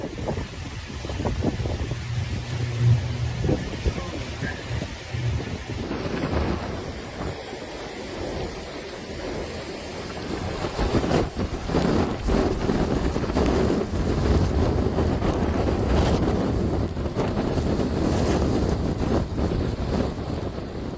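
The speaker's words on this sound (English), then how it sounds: "a Category 4 hurricane with sustained winds of up to 150 miles per hour, 241 kilometers per hour, made landfall on Cayo Costa" Hurricane Ian, a Category 4 storm, strikes Florida's coast near Fort Myers with extreme winds and rain. Loud, continuous wind buffets the microphone with a roaring, gusting rush that intensifies partway through and stays heavy to the end.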